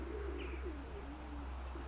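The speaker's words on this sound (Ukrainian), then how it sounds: "Микола, ось цей голубок." A soft, low pigeon coo rolls in a few short phrases over steady background hum, with a faint higher chirp partway through.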